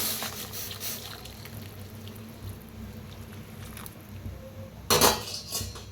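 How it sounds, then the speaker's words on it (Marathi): Hot water is poured into roasted ground masala in a pot for sambar. There is soft liquid splashing with clinks of a metal pot and utensils, then a sharper clatter near the end. "आता ह्याच्यात ओतूया गरम पाणी"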